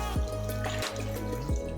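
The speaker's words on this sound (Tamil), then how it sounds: "இப்போ வந்து இதில் கொஞ்சம் தண்ணி ஊற்றிடலாம்" Water poured into a pot of chicken soup, a steady close pour with a slight gurgle and a few dripping splashes, without any talking.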